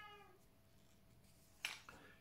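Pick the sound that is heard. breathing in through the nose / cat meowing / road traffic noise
cat meowing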